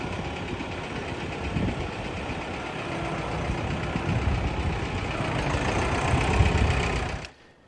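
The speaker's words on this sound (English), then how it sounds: "we just got the tractor out here, got the bucket put on it" A farm tractor fitted with a front bucket idles steadily nearby with a rough, knocking diesel rumble for several seconds before cutting off abruptly at the end.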